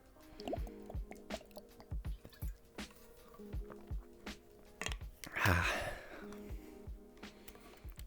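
A person drinks water up close: soft gulps and liquid squishes in an irregular rhythm, with one louder splashing slurp partway through, and no talking.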